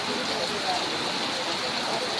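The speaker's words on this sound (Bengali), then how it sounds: "খুব জোরে বৃষ্টি হচ্ছে" Heavy rain pours down on a vegetable market during selling hours, a steady, dense hiss and roar that fills the whole moment without a break, with no voices over it.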